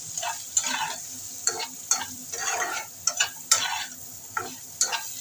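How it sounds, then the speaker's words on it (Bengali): Steamed papaya sizzles in hot oil with tempering spices as a spatula stirs it around a pan, with sharp, rhythmic scraping strokes over a steady frying hiss. No voices. "পেঁপেটা ভাজা ভাজা করে নিয়েছি"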